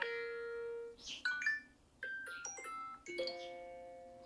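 A series of short chime and bell-like alert tones from an iPhone, previewed one after another in the WhatsApp notification sound settings, clear and close with brief gaps between them and no talk.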